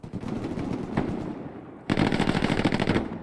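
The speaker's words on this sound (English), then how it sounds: "Heard the gunshots." Bursts of automatic machine gun fire in a large multiplayer online shooter match on a derailed-train map, loud and rapid, with a brief lull before a second sustained, dense volley.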